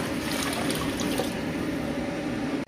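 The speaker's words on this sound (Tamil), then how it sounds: "4 டம்ளர் தண்ணி ஊற்றிக்கிடுங்க." Water is poured into a pot of tomato rice in a home kitchen, a steady splashing gush that runs continuously and close, then cuts off abruptly at the end.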